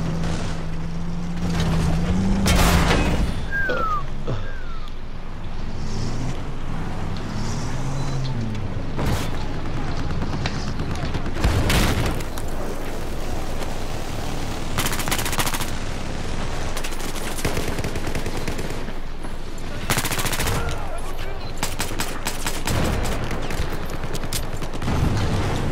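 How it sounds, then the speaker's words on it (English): Gunfire in a multiplayer shooter video game, repeated loud bursts of shots and explosive blasts scattered throughout, mixed with engine and vehicle sounds and voices talking over the action. "Why the fuck are they shooting at me?"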